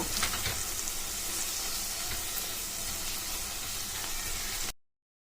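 Masala spices sizzle and hiss busily in hot oil for a cauliflower and pea curry, a dense close crackle with light stirring that cuts off abruptly near the end.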